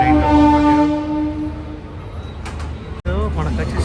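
The Shabari Express and its locomotive sound close by, a loud rumbling train with a sustained horn-like tone at the start and a sharp clank near the end, all under nearby talking.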